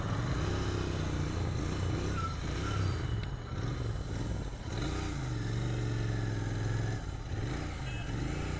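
A Royal Enfield GT650 motorcycle running on E20 petrol cruises at speed, its engine droning steadily with slight pitch shifts and wind noise throughout, fairly faint, with no voice over it.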